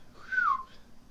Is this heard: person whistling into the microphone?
yes